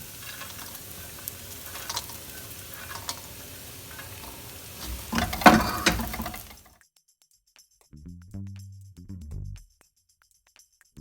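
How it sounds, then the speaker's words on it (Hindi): Fried peanuts being stirred into samosa filling in a pan, giving a steady scraping, sizzling rustle with a louder burst of stirring before the sound cuts off, followed by a few faint clicks. "फिर यहाँ पे जो मैंने मूंगफली फ्राई किया था मैं इसको इसमें मिक्स कर दूंगी।"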